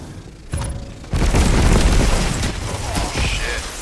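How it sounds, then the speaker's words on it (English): A grenade detonates in the Destiny 2 video game, a deep booming blast that swells into a sustained rumble with crackling debris and game effects, loud and close. "That nade did it all."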